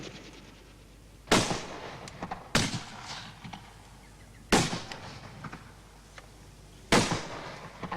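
Four sharp gunshots ring out one at a time, spaced a second or two apart. Each is a loud, sudden crack followed by a short decaying tail against a quiet background, with no speech.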